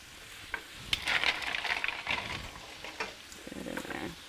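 Clams go into a sizzling pan with chorizo, onions and garlic, bringing a surge of loud frying hiss, shell clatter and scraping as they are nestled in. The sizzle rises and falls in bursts, with no voices.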